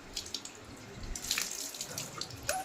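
Water splashes and pours steadily from a bucket onto a dog during a bath, quiet and close, with brief drips and sploshes.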